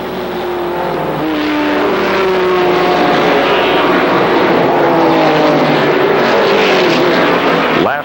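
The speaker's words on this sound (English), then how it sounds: "Then Hillenberg, leader going by." ARCA Supercar stock cars, including a Buick, racing at Kil Kare Speedway in 1995, engines roaring loud and close as the pack passes, with rising and falling pitch from several cars.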